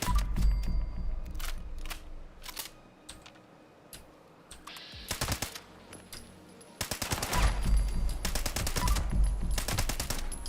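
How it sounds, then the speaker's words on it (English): Gunfire in the video game Fallout 76, shots fired through a barrier: bursts of rapid, sharp cracks in uneven clusters, some dense automatic runs, loud and close with quieter gaps between. "Shooting them through the barrier, that's always fun."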